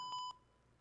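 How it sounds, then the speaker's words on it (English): An aircraft cockpit alarm sounds a few quick, thin electronic beeps in under half a second, faint and alone, then stops. "That alarm went off about 125 times."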